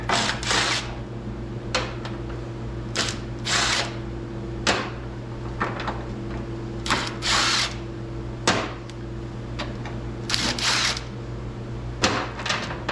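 A power drill removes bolts from a 1990 Ford F350 truck door, whirring in repeated short bursts with clicks and pauses between them, close up, steady motor hum underneath.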